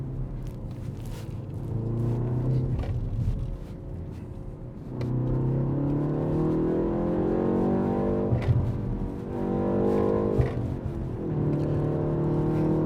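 A 2024 BMW M135 driven hard through corners, steady interior engine drone rising and falling with gear changes and throttle, rumbling close inside the cabin without talk.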